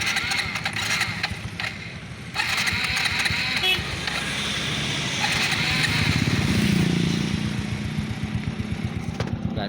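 A Suzuki Smash semi-automatic motorcycle with a tuned carburetor idles in neutral, its engine putting out a steady, close, rapid low putter that swells slightly midway, with people talking over it.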